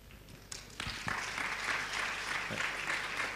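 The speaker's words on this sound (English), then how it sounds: "can we please have another round of applause for Tan Sri Muhyiddin Yassin" A conference audience applauds after a closing address, the clapping starting with a few scattered claps, then building quickly into a steady, moderately distant round of applause.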